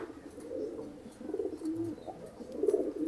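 Soft, low cooing of racing homing pigeons repeating in short throaty phrases, fairly close, with faint background noise and no talking.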